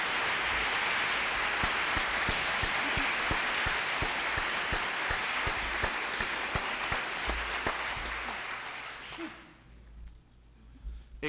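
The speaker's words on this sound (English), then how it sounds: "Please give them a round of applause." Sustained, dense audience applause at a conference plenary session, loud and steady for about nine seconds before fading abruptly into a quiet hall.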